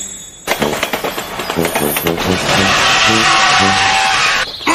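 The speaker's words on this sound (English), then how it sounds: "Hammersmith, stop driving so badly! I'm not driving badly. Then why do you keep braking?" A cartoon vehicle in a children's animated show lurches along erratically, with loud rattling engine bursts, jerky stop-start braking thumps and a sustained grinding rumble, and voices are heard over it.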